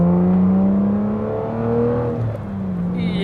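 A manual Aston Martin DBS engine revs loudly and close, its tone sliding through clear harmonic sweeps as the revs rise and fall, ending with a slight dip and a brief high whine.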